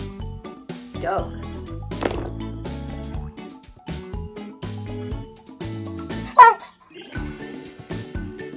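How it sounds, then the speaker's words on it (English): A dog barks on a farm in a toddler's animal sound demonstration, with a sharp bark near the end rising above steady background music. "Dog."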